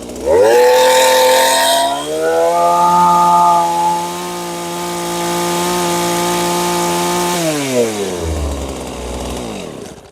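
A Husqvarna 40 chainsaw idles too fast, so its chain keeps spinning. After a sharp rev at the start, the loud buzzing holds at a high, steady idle, then drops and sputters down near the end.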